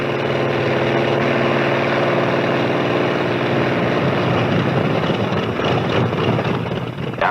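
A Grumman F6F Hellcat fighter's piston engine drones steadily at takeoff, a loud, continuous roar with wind rush that holds level throughout and roughens slightly near the end.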